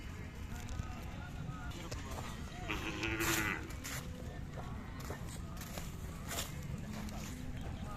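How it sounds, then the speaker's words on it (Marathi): Pure white Khillar cattle and bulls mill about at a village fair, with a low moo rising briefly amid a constant hum of crowd voices and outdoor bustle. "सुंदर खोंड आहेत पांढरे शुभ्र चित्रकोशा किल्लार"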